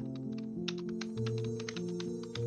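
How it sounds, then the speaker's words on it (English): Rapid clicking keystrokes on a computer keyboard, a close, quick run of taps over steady background music, no voices. "What are you typing?"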